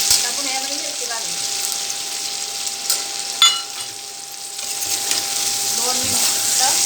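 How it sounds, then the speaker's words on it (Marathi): Green chillies and potatoes fry in hot oil for sabudana khichdi, a steady close sizzle with occasional stirring scrapes and a brief clatter midway. "2 मिनिटं मिरची हलवून घ्यायची तेलात."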